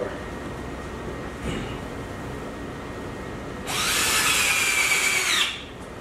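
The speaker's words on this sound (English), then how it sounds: "it's just about putting screws where they go" A power drill whirs as it drives a screw into plywood during assembly of a Rogue home gym in a garage, a single steady burst of about two seconds rising over a quiet room hum.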